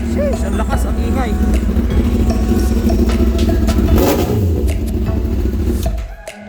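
A Honda CB1000R motorcycle fitted with an Austin Racing slip-on muffler runs loud and close, its deep engine rumble rising in a couple of revs before cutting off near the end, with someone talking over it.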